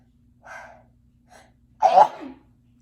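A single sharp sneeze, preceded by two soft intakes of breath, close to the microphone in an otherwise quiet room.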